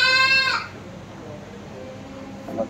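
Mewat goats at a breeding farm in Ahmedabad give a loud, harmonic bleat at the start, followed by quieter pen background and a faint second call near the end.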